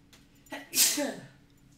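A single sharp sneeze bursts out close to the microphone during a League of Legends match, loud and brief, with a faint lead-in breath before it and a quick fade after.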